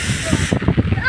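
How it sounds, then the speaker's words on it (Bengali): Strong wind during heavy rain roars as a loud, hissing rush at close range, dropping slightly partway through while a voice talks over it. "প্রচণ্ড পরিমাণ বাতাস"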